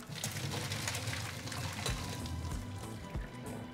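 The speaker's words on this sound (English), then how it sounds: "And now we're going to drain the water." Hot water drained off boiled tomatillos and chiles, a continuous close rushing pour with a low rumble and a few thuds near the end.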